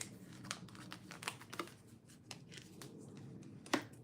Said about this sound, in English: I'm going to break this down into a couple of decks here and shuffle them like that.